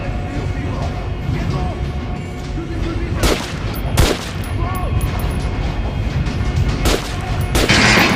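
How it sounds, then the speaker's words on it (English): Weapons firing at training dummies in the video game Metro Last Light, a series of sharp shots at irregular intervals over a dense, steady game background, with a voice speaking through it. "Try out the rest of the weapons you chose. Try shooting for the center of the regular dummy's chest."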